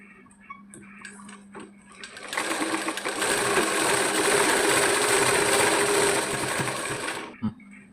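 Sewing machine stitching the side seams of a child's petticoat top, a steady fast mechanical whirr running alone for about five seconds after a few soft handling clicks, then stopping with a brief thunk.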